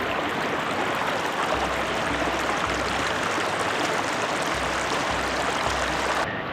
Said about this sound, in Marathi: धबधबे बघा किती आहेत तिकडनं लाईनशीर.